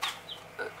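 A chick on a pull-out feeder tray gives a few short, close cheeps and clucks, spaced apart with quiet gaps between them.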